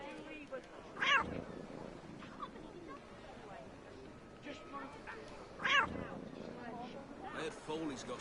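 A cat in Assassin's Creed Rogue gives two short, high meows a few seconds apart over a low murmur of game ambience and speech, with a person talking in between.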